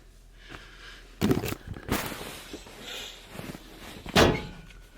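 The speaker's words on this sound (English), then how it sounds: "That was my head. Oh, I stood up too quick and banged it." Head banging against a bunk bed on a boat, a sudden close thud at about a second in followed by fainter knocks and shuffling, then a second sharp thump near the end.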